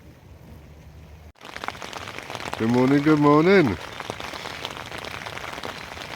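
Rain patters steadily on a tent while camping overnight in the woods at Fan Fawr, a continuous hiss under a person's spoken greeting and a brief loud voiced moment.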